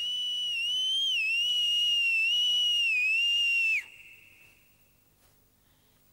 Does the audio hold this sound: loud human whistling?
yes